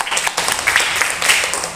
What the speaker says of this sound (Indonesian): Oke, tepuk tangan untuk kelompoknya.